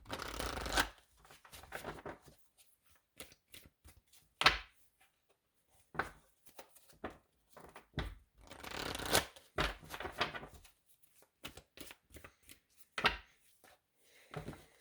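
Tarot cards being shuffled by hand, a run of crisp riffling bursts and soft slaps in irregular clusters, close and fairly quiet, separated by short pauses with no talking.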